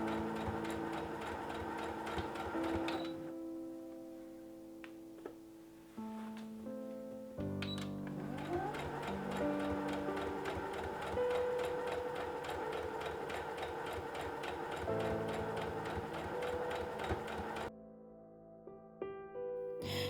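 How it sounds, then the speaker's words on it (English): A sewing machine stitches the casing on linen pants in close, quiet bursts of rapid mechanical chatter, pausing briefly between runs, with no voices. "Then it's back to the sewing machine."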